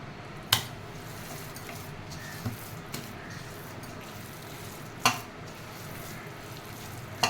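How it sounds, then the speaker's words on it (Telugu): Sabudana vada frying in hot oil over medium heat, a steady low sizzle running throughout with a few sharp clinks or splashes standing out. "ఆయిల్ బాగా వేడెక్కాక సిమ్లో పెట్టేసుకుని వేసుకోండి, మీడియంలో ఫ్రై చేసుకోవాలి"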